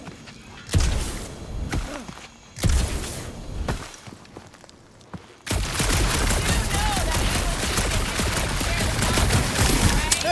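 Rapid video game gunfire from the player's weapon in Guardians of the Galaxy, first in a few separate bursts and then as a dense, steady barrage under background speech.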